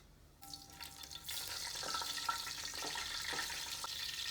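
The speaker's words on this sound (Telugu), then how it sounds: "6 ఇలాచి, ఒక 7-8 లవంగాలు, ఒక పెద్ద ఇలాచి, 2 ఇంచుల చెక్క, ఒక జాజి పువ్వు, ఒక అనాస పువ్వు, 2 బిర్యానీ ఆకులు, 1/2 స్పూను సాజీరా ఇవన్నీ వేసుకోవాలి." Whole garam masala spices, including cardamom, cloves, black cardamom, cinnamon, mace, star anise, bay leaves and shahi jeera, hit the hot fat in a pot for mutton yakhni pulao, giving a soft, steady sizzle that starts suddenly and continues alone.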